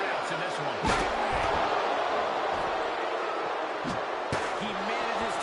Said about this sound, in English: you can't hear yourself think because the crowd's so loud